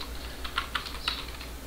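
Keys tapped on a computer keyboard, three or four soft, close clicks in a quiet room, ending with the Enter key.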